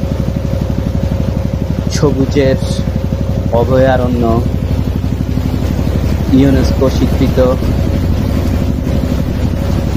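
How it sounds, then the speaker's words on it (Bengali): A trawler boat engine drones steadily and loudly close by, a low rhythmic throb as the boat moves through the Sundarbans mangrove forest. A person talks over the engine in short bursts. "পৃথিবীর সবচেয়ে বড় ম্যানগ্রোভ ফরেস্টের ভিতর দিয়ে আমরা এই ট্রলারে করে এগিয়ে যাচ্ছি।"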